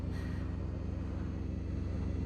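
Spacecraft engines firing for vertical takeoff in the video game The Invincible, a steady loud low rumble with a dense droning hum, continuous throughout with no break.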